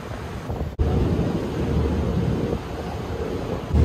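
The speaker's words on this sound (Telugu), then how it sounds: "షిప్ సై సై రప్ప రప్ప అని కొట్టుకొని వెళ్ళిపోతుంది" A river ship on the Amazon, travelling from Manaus to Tabatinga, moves fast with water rushing and splashing alongside, a loud steady roar mixed with wind buffeting, briefly broken by a sharp cut.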